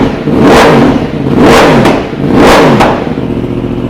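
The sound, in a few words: Yamaha R1 crossplane engine revving, Pipewerx decat exhaust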